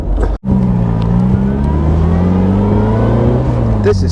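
Supercharged A-series engine in an Austin Healey Frogeye Sprite accelerating from inside the car, a close, raspy drone climbing steadily in pitch after a brief gap from a gear change, with no talk over it.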